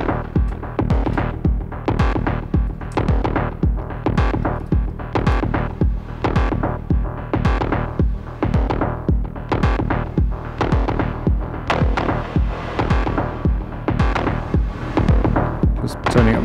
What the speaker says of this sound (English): you can hear it pumping against the sidechain I've got in Ableton